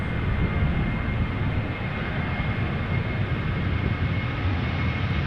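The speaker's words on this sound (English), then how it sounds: "we have a Transavia 737 taking off right here" A Transavia Boeing 737 taking off at Amsterdam sends out a continuous broad jet roar, steady and moderately distant, with no voices.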